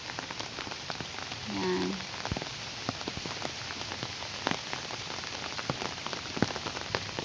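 Steady rain falling outdoors, a dense patter of drops striking surfaces with occasional sharper close splashes, and a brief voice speaks near the start.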